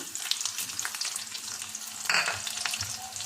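Onions fry in hot oil toward golden brown, giving a close, even sizzle with soft stirring scrapes and one brief louder crackle midway; no talking.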